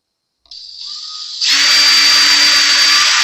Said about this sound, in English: Small pilot hole. Screws are really tiny.